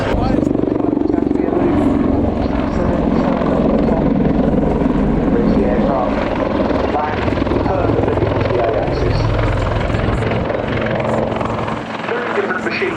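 A Westland Wildcat helicopter flies at a Royal Air Force airshow, its rotor and engine making a loud continuous roar and chop throughout, with a commentator talking over it.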